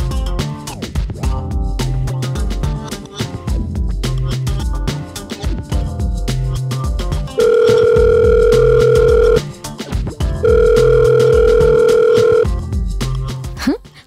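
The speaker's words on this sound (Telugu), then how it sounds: "ఒకసారి ఫోన్ చేసి చూద్దాం" A telephone call's ringback tone, long steady tone bursts repeating twice over a busy background of music-like harmonic sound.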